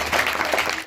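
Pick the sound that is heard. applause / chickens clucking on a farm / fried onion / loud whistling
applause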